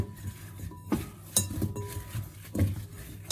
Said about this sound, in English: Put your potatoes in the bowl with your mixture, and then get your hands in there.